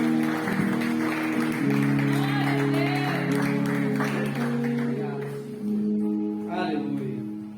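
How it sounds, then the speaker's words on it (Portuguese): A church congregation applauds in dense, continuous clapping over sustained music with held organ- or keyboard-like tones and some singing, fading slightly toward the end. "Você pode aplaudir ao Senhor."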